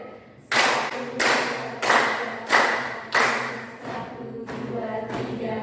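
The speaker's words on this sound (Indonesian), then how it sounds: "Tepuk 5 kali." Teachers in a coaching workshop clap in unison five times, each clap a loud, sharp burst at a steady, even pace, fading into quieter room tone afterward.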